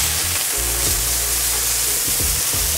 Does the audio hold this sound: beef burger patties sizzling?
yes